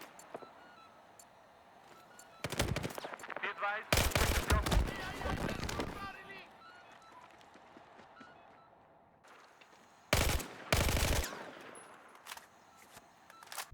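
Bursts of rapid automatic gunfire from the Battlefield 4 video game, loud clusters of shots in several volleys separated by quieter game ambience, with a voice talking in places.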